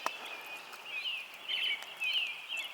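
Small birds singing at nightfall by a lake, thin high chirps and trills that come and go softly at a distance over quiet background, with no voices.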